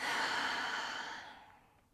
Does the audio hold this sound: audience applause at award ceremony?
no